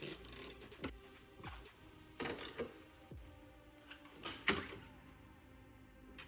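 Bolts being tightened while a car bumper is refitted: several sharp metallic ratchet clicks and clunks come in separated bursts over a quiet background, close by, with no talking.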